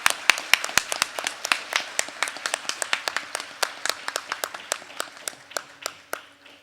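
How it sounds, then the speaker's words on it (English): An audience claps for the musicians at a Bharatanatyam arangetram recital: distinct, sharp hand claps at an uneven quick pace, near and fairly loud, thinning out toward the end with no talk. "Please give them a big round of applause."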